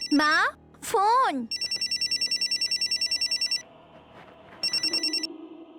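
A mobile phone's ringtone sounds in two loud, close bursts, with voices speaking just before and between the rings.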